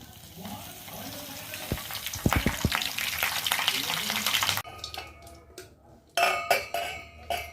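Mustard seeds and curry leaves crackle and sizzle in a cup of groundnut oil for lemon pickle, with sharp pops and clatters over a steady hiss, close and fairly loud, and a voice talking briefly.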